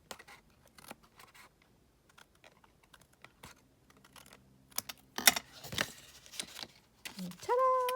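Scissors snipping through a paper card during papercraft, a series of sharp clicks and rustles scattered across the stretch, close and moderately loud, with brief handling noise and a short tone near the end.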